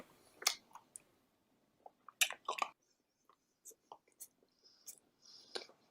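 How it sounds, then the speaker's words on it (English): Someone eats a thick bacon sandwich in wet, clicking bites and slurps that come in short bursts. The bites are close and quiet, with near-silent pauses between them. "Oh, why do you gotta slurp?"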